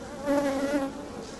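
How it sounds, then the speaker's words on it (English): Honeybee swarm being caught and pushed down into a box, a close, loud buzzing hum that swells in the middle and then fades slightly, with no talk. "go ahead and set these bees down in there"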